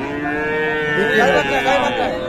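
A cow at a rural cattle market gives one long, loud, close moo that wavers in pitch over a steady background murmur.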